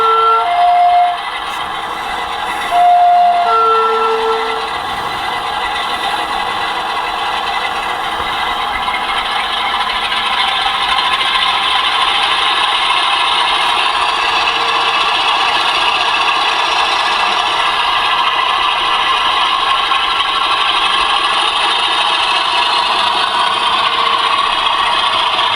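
A model train locomotive engine sound plays through a new speaker on a layout, a steady mechanical drone with rattling texture running continuously and fairly loud, with a few brief tonal beeps near the start.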